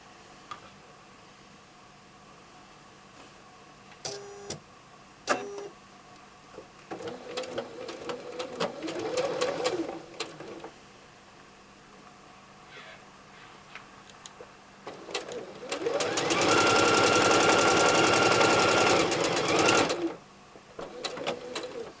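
Sewing machine stitching a quilt block in a quilting session, with a brief burst around the middle and a steady, loud, fast whirring run of several seconds near the end, separated by quieter pauses and small mechanical clicks.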